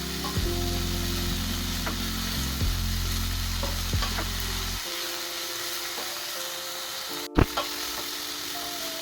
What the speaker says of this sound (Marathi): मेथी चिरून झाल्यानंतर आपल्याला ती पॅनमध्ये थोडंसं ऑइल टाकून परतून घ्यायची आहे